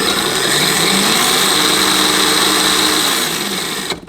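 An electric motor in a remote-control car runs forward with a loud, steady, high-pitched whine that holds evenly for about four seconds and then cuts off abruptly.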